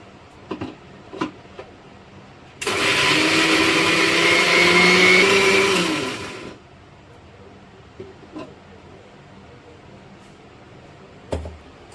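A mixer grinder whirs loudly for about four seconds as it grinds ginger, garlic cloves and a green chili, starting abruptly and winding down, with a few faint knocks in the quiet before and after.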